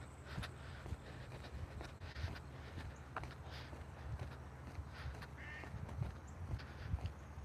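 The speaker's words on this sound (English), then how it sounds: "They're quacking." Ducks quack steadily outdoors, a continuous murmur of calls over a noisy background with scattered footsteps and rustling.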